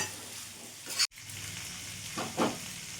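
Chicken mince and potatoes sizzle steadily in a pan, a continuous hiss with a brief cut near the middle and a couple of louder scraping stirs toward the end, with no talking.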